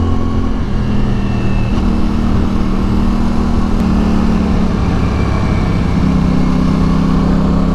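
A CFMoto 450SR S twin-cylinder motorcycle engine idles and blips with a loud, steady mid-pitched thrum and a throbbing twin-cylinder pulse, close by and without talk.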